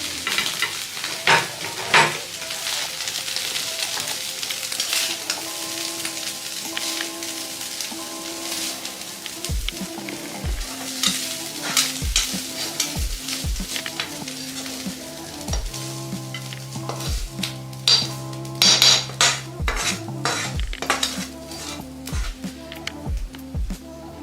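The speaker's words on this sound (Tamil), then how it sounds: "இப்போ நம்ம எடுத்து பவுலில் மாற்றிடலாம்." Finished chicken podimas, a shredded chicken stir-fry, is scooped from a hot pan into a bowl. A soft sizzle runs under a series of sharp spoon scrapes and clanks against the pan, with no talking.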